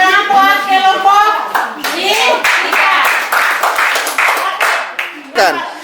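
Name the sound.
children clapping for a group in class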